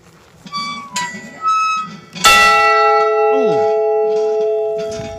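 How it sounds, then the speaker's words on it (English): A loud bell rung outdoors in a small Kansas town park, struck once with a sharp clang that rings on with long, slowly fading tones, preceded by faint footsteps and short tonal sounds. "Let's go ring the bell."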